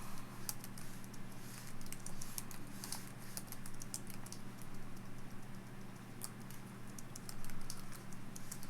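Fingers type on a laptop keyboard in quick, uneven bursts of light clicks and taps, close but quiet, over a faint steady hum, with no talk.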